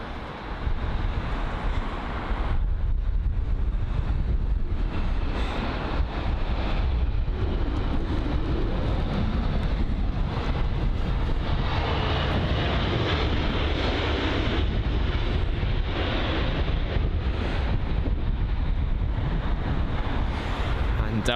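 Strong wind buffeting the microphone at an airport viewing spot near London Heathrow, a loud continuous roar with gusty surges, mixed with distant aircraft engine noise and occasional speech.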